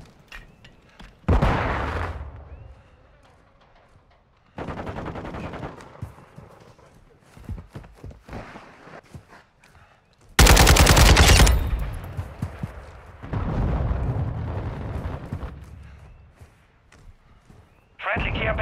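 Modern Warfare 2 team deathmatch combat: bursts of automatic gunfire separated by quieter gaps, with one very loud, dense blast like a grenade explosion midway, and a voice talking among the shots.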